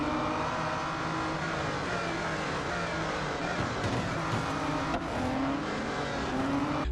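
Racing car engines from the mobile racing game Real Racing 3 drone loudly and steadily throughout, with rising revs and faint tire noise, and no talking.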